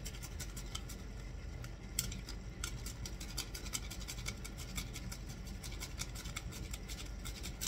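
Whole nutmeg is freshly grated for a cake, a quiet rapid scraping with rhythmic raspy strokes repeating steadily, faint and close, with no voices.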